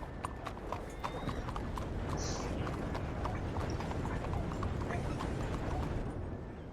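Horse hooves clip-clop in a steady rhythm on a city street in Red Dead Redemption 2, with a brief neigh partway through, moderately loud and continuous under faint background game sound.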